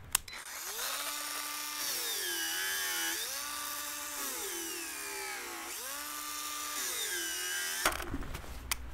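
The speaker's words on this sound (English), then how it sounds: "To put slots in, I've just got an angle grinder with a cutting blade." An angle grinder fitted with a cutting blade slots a length of plastic pipe, its steady high whine dipping in pitch in repeated waves as the blade bites into the pipe, running continuously for several seconds before stopping abruptly.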